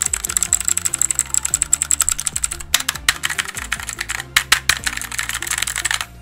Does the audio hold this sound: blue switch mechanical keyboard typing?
yes